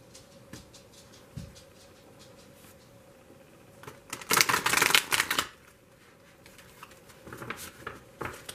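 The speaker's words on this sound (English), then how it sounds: "It's important to shuffle in front of the camera." Tarot cards being shuffled: soft scattered riffles and taps, then a louder rapid flurry of shuffling in the middle, easing back to quiet handling.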